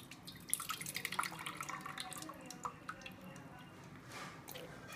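Water being drained off a pot during cooking, heard as small irregular drips and splashes close by, fairly quiet, with soft kitchen handling noises and no talking.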